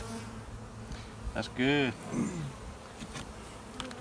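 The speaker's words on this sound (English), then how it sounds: "Too many bees in this box." Bees buzz around a crowded beehive box in a yard, a near, wavering drone with one loud close pass and someone speaking briefly.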